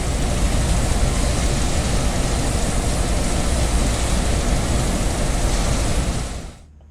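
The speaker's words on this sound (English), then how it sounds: "Pulling the train that day was SW-1200, number 606, a diesel locomotive." A deep, steady SW-1200 diesel locomotive engine rumbles at idle close by, broadband and constant, then cuts off abruptly near the end.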